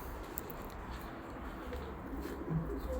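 Pet pigeons, white and chocolate-coloured birds kept by a fancier, coo softly in a low, quiet murmur against faint background noise.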